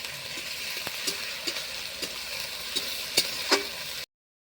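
A steady sizzle of ginger, garlic and onion paste frying in hot oil, with a few sharp pops and clinks of stirring, before an abrupt silence at the end.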